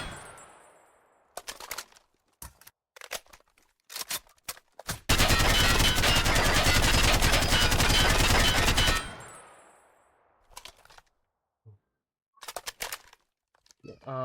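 Rifle fire from a gun in the TaCZ mod, one long sustained automatic burst in the middle, framed by short separate shots and clicks before and after, loud and close.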